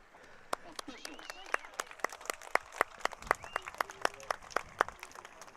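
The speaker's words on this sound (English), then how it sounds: "A round of applause, please, for these officials." Scattered applause from the stands at a high school football game between Baltic and Parker, sharp individual claps spaced out over a faint crowd murmur, modest and fairly distant.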